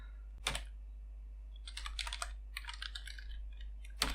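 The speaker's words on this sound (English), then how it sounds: "So I simply type a keyword here" Typing on a computer keyboard: short soft bursts of key clicks, one isolated tap, then two quick clusters of keystrokes and a final tap, close and quiet over a low electrical hum.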